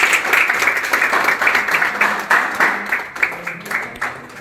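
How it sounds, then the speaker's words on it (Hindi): An audience applauds a student in a coaching classroom, with dense sustained clapping that rolls on for several seconds and then thins into more separate claps toward the end. "सलोनी के लिए ताली मार दीजिए"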